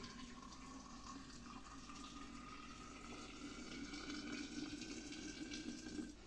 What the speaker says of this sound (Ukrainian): Просто наливаємо потрошка на сливку води.